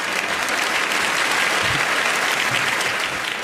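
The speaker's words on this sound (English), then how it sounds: "Clap if you're in love." Audience at a live stand-up comedy show clapping steadily throughout, a dense, sustained round of applause from a full crowd with no pauses.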